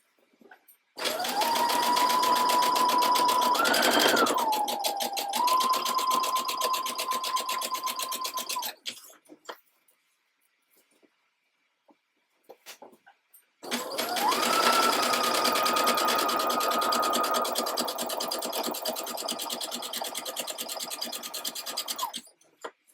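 Sewing machine stitching elastic onto a lace thong, running in two long steady bursts with a brief pitch dip and a quiet gap between, loud and close with no talking.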